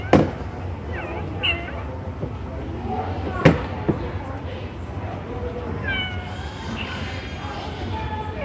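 A cat meows several times amid background chatter, with a few sharp thumps and soft, drawn-out mewing calls near the end.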